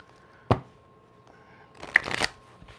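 Cards are riffled and snapped together in a quick shuffle, with a brief tap beforehand, close and clear with no talking.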